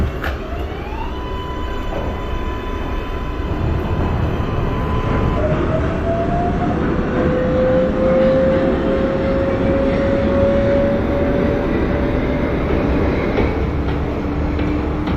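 An NYC Subway R142A train departs in the OpenBVE simulator, its motors whining in rising, stepping tones as it accelerates over a loud, steady rumble, with no talking.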